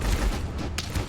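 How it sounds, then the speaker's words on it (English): Dense, rumbling explosions and rapid blasts from a bomb going off in the action game God of Weapons, loud and booming with a sharp burst partway through. "that's a bomb"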